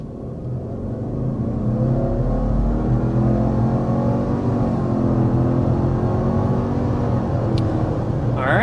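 A 2026 Subaru Outback XT accelerating hard to 60 mph, heard from inside as a steady, loud engine drone with rising harmonics that climb and shift with gear changes, no talking over it.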